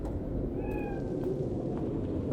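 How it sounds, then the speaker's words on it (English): A cat in Cyberpunk 2077 gives a single short meow over a low, steady background hum. "That's the cat."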